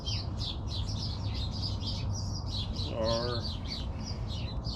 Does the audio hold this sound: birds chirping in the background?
yes